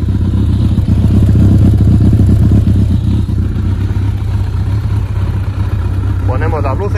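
A Kawasaki ZRX 1200 S converted into a cafe racer idles steadily and loudly at close range, its even engine note running throughout while someone speaks near the end.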